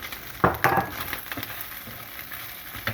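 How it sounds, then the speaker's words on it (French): Onions and bacon lardons sautéing together in a pan for lentils with bacon, a low crackle with a few sharp stirring scrapes near the start, then quieter sizzling. "nous allons rajouter les oignons pour les faire revenir davantage ensemble"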